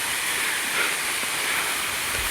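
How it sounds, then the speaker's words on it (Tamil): Large waterfall in the Hindol-Badamba reserve forest, heard as a steady, loud broadband roar of rushing water, continuous and unbroken throughout. "வாட்டர் ஃபால்ஸ் போயிட்டே இருக்கு ஓ நாம் வந்துட்டோம் பெரிய வாட்டர் ஃபால்ஸ் இங்கே பாருங்க"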